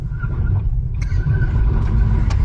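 A Nissan Leaf SV electric car accelerates hard from a standstill on an empty frontage road, giving a steady, loud low rumble of tyre and road noise with a faint rising whine that runs throughout.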